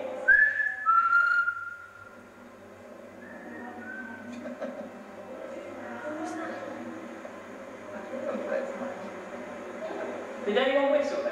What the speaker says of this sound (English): We just heard a whistle.